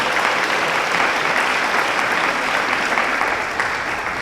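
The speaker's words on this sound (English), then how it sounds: "Guys, let's give him a round of applause." A live event audience gives a steady, dense round of applause, loud and sustained throughout before tapering slightly at the end.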